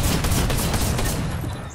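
Rapid gunfire bursts in Fortnite, dense loud shots from a shotgun packed tightly together before tailing off near the end.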